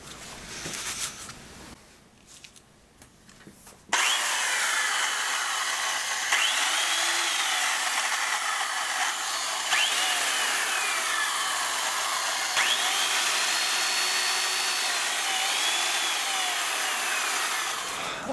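An old Stanley belt sander with a slight rattle runs loud and steady after a quiet start, its motor whine holding constant with faint rising sweeps and no voices.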